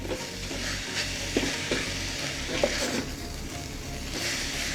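Grated coconut and carrot fry in a pan for Tamil-style carrot sambal, with a steady soft sizzle and a few sharp scrapes and taps of a spoon stirring against the pan.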